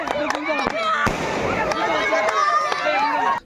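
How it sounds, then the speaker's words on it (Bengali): Colourful fireworks go off around the ground at a village football tournament final in Anwara. Sharp pops and bangs come repeatedly at close range, with whistling rockets and crackles woven between them. "এডে ফুটানো হই নানান রঙের আতশবাজি"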